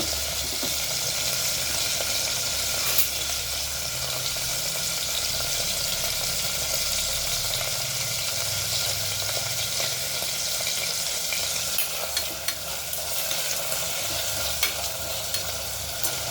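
Masala with tomatoes sautés in a pan for chicken biryani, giving a long, steady, close sizzle with faint occasional scraping throughout and no voices.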